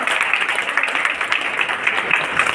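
Steady audience applause at a college event, continuous dense clapping from many hands at a fairly loud, even level, with no talk over it.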